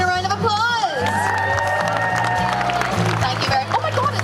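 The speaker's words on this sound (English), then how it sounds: "give Catherine a round of applause" A crowd at Liverpool Comic Con 2019 cheers, whoops and claps for a costumed guest, with excited voices rising over a busy hall background and low tonal music.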